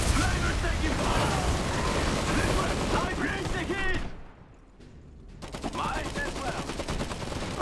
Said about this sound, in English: Incoming artillery!